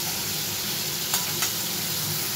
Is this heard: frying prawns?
yes